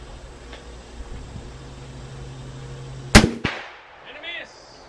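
A single sharp blast from a .44 Magnum revolver cracks out mid-clip, followed by a quick echoing tail and a second smaller thump, over a low background hum with faint voices nearby.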